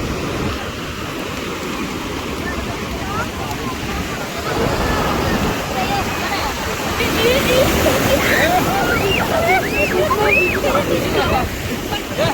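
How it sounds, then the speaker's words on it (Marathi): Sea waves surge and break on a Konkan beach at Shrivardhan in a continuous loud roar that swells halfway through, with faint voices calling in the background. "पाण्याची लाट एक नंबर अशी जोरदार आलेली आहे."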